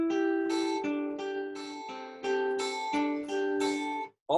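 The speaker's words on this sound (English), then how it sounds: "we do this with this technique called cross picking" Clean guitar cross picking rings out in even eighth notes grouped in threes, each plucked note bright and distinct in a steady rolling pattern, played alone up close.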